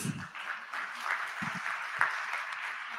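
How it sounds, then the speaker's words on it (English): An awards-ceremony audience applauds at an advertising leadership event, the clapping fairly faint and distant, steady throughout with a brief louder spot. "once again, a big round of applause, please."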